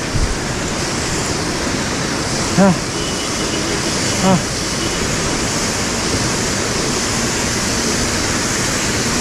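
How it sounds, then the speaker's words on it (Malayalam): A waterfall below Sach Pass near Satrundi, Himachal Pradesh, gives a steady, loud wash of rushing water throughout. Two brief vehicle horn beeps cut faintly through the roar. "വെള്ളച്ചാട്ടം."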